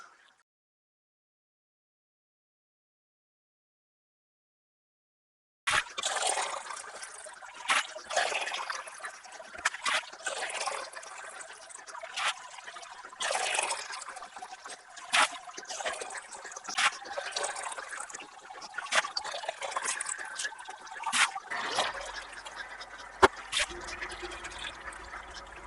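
After several seconds of silence, water pours for a Czech Pilsner home brew, a continuous close splashing fill with fluctuating gurgles that runs for about twenty seconds, alone without talk.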